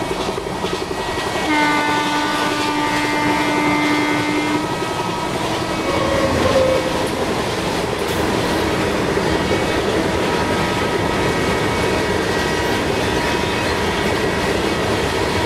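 A freight train passes in the Indian Train Simulator game: a long sustained horn sounds early, then loud, steady rumbling and clattering of the wagons rolls on continuously, with no talking.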